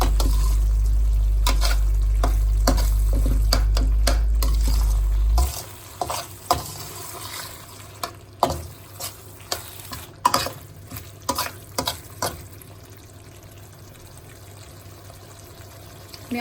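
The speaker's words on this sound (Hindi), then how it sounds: "मसाला अच्छे से भुन गया" Masala frying in oil in a pan while being stirred for dhaba-style urad dal tadka, a loud steady sizzle at first that then drops to quieter frying broken by repeated scraping stirs.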